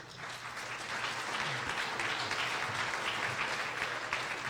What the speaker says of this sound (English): So a round of applause to